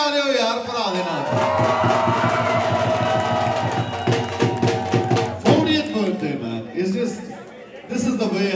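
A concert crowd at a Punjabi live show in Sacramento cheers and claps loudly and steadily, a dense roar of voices and applause that swells and dips, with a voice rising over it near the end.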